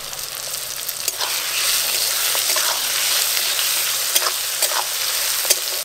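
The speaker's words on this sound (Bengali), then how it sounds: "টমেটো আর পেঁয়াজ একটু ভাজা ভাজা হয়ে গেছে" Chopped tomatoes and onions with a little salt frying in a pan for a chicken and potato curry, a steady close sizzle with occasional stirring clicks of a utensil and no voices.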